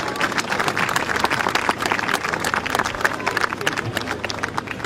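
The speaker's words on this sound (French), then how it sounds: "Je vous prie d'applaudir." A live audience breaks into dense, sustained applause at an evening tribute event, loud and close, with crowd murmurs mixed into the steady clapping throughout.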